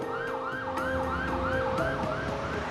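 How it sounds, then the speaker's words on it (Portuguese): An ambulance siren wails in repeated rising and falling sweeps, loud and steady over low road rumble, with no voices. "A sirene da ambulância era um som comum e assustador."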